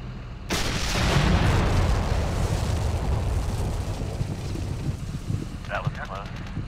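A tank cannon fires in a video game with a huge booming blast that rolls on as a long, dense rumble, loud and close, with a brief burst of voices near the end.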